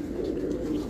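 Mehar Sahab breed pigeons coo in a continuous low throaty murmur, close by and moderately loud, with no pauses.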